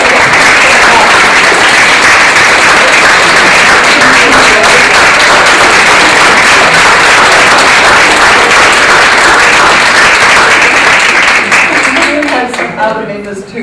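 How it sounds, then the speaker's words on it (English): Sustained, loud audience applause at an evening self-esteem talk, dense steady clapping from a room full of people that carries on for several seconds before tapering off at the end. "if you could just show a thank you by giving them a clap"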